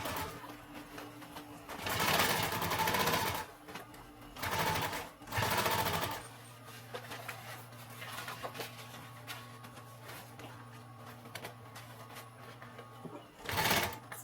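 A sewing machine stitches down a simple homemade backpack in several loud bursts of whirring, separated by quieter pauses as the work is repositioned, with a final short burst near the end.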